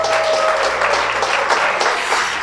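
A church congregation applauds, a dense, steady wash of clapping that fills the room for a couple of seconds.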